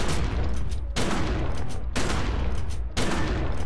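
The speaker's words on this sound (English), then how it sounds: "it doesn't matter how close I am, I can still fire my shotgun" Shotgun fire in the video game The Secret World, heard as four loud, heavy blasts about a second apart, each one followed by a dense roaring tail.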